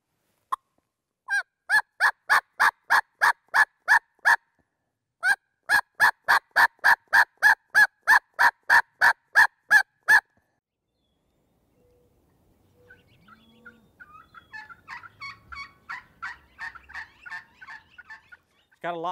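A hand-operated turkey call imitates an excited hen yelp: a long, fast run of sharp, evenly spaced yelps, a short pause, then a second equally loud run, ending with faint scattered sounds.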